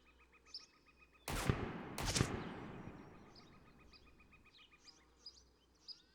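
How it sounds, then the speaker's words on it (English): Two sharp, loud gunshots close together in the video game Road to Vostok, each followed by a long, rolling echo, against an outdoor background of faint chirping birds. "we're getting shot at the moment"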